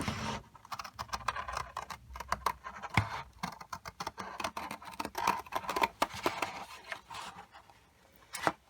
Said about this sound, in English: Take a scissor and cut along the drawn line.